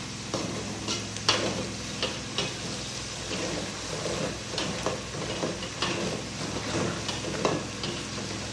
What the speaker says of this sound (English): I keep stirring this for like the next 5 minutes